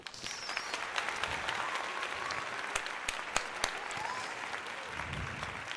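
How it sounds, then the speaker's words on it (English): Applause and crowd noise at a Philadelphia 76ers versus Toronto Raptors basketball game, a steady distant wash of clapping with a few sharp louder claps standing out near the end. "That does deserve a nice round of applause."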